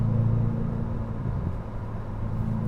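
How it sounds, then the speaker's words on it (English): A modified Ferrari 488's turbocharged engine hums with a steady low drone from inside the car under light load, a faint turbo whine over the rumble, with no speech. "I can hear those turbos spooling up when you put a little bit of load on it"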